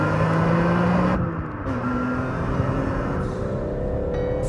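A BMW M3 engine hums and revs steadily with a metallic, raspy sound, a brief dip and then a rising whine, heard up close at a track without speech.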